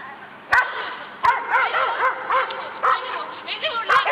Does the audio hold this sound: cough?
no